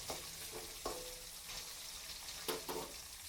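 Ginger pieces sautéing in a pan during fish curry preparation give a soft, steady sizzle with a few brief stir scrapes and clicks spread across the clip, and no voices.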